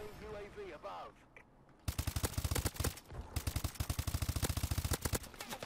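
Gunfire in the video game Call of Duty: Advanced Warfare: rapid automatic bursts of loud, close shots in a fast rattling rhythm, broken by a brief pause, after a voice shouts over the start.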